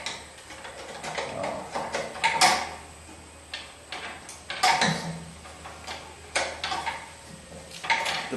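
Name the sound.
ratchet wrench loosening a brake line bolt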